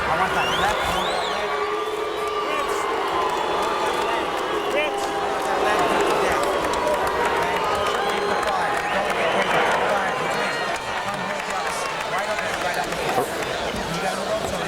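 Crowd at a kickboxing event booing and murmuring continuously through the whole stretch, a broad steady wash of voices with a commentator talking over it.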